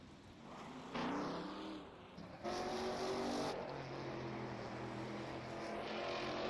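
A Camaro race car engine in a racing video game at Mont Tremblant drones and shifts pitch as it accelerates, with rising and falling revs and a passing surge, steady and moderately loud with no talking.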